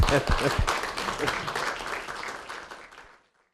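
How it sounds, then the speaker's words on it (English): A seminar audience at a senior living talk breaks into applause, loud at first with a few sharp near claps, then thinning and fading out over about three seconds into silence. "We will applaud."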